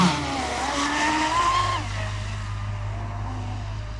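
A small motor on an RC catamaran boat with a Tenshock 4S system whines at high pitch, its tone sliding up and down, over a steady low hum and background hiss.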